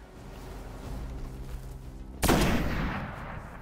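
Gunfire in the video game Destiny: a quiet stretch of low droning game sound, then a sudden loud blast of shots that rings on and fades slowly.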